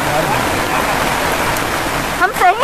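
Heavy rain pours on job-seekers holding a sit-in protest in front of a Congress party office, a dense, steady hiss with voices rising briefly near the end.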